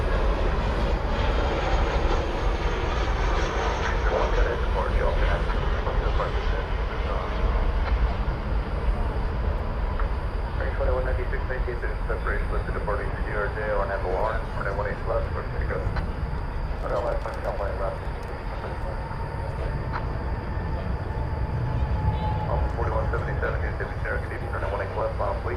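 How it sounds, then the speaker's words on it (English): American Airlines flight 2923, an Airbus A319 arriving from Wichita, Kansas, lands at DFW Airport with a loud, steady jet roar that fills the whole stretch while a person talks over it. "That was American 2923 arriving from Wichita"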